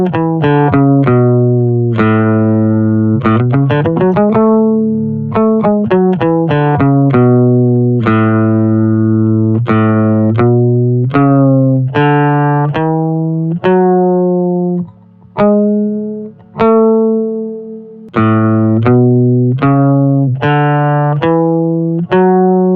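A fretless guitar played through Auto-Tune gives a melodic run of sharply pitch-corrected notes, each snapping cleanly to its step, loud and continuous with short gaps, no talking.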